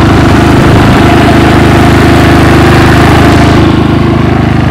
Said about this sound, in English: our solar batteries were dead, so I had to fire up the generator. Got the Predator going